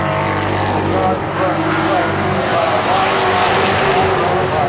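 Late model race cars roar past at Seekonk Speedway, a loud sustained engine blare with tire noise close by, while an announcer talks over the racing.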